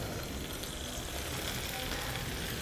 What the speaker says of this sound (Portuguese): E a gente vai utilizar diretamente o mignon direto na frigideira.